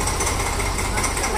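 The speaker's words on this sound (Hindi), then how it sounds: "ट्रैक्टर आ गया, ट्रैक्टर ट्रैक्टर।" A tractor engine chugs nearby in a steady, rhythmic, throbbing run, loud and constant for the whole brief moment.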